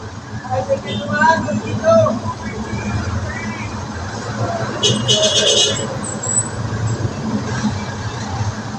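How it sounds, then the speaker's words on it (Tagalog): Road traffic passing a roadside fried chicken stall, with engines rumbling and vehicles going by at close to middle distance, a brief high squeal or horn partway through, and people talking over the noise. "Traffic po, traffic!"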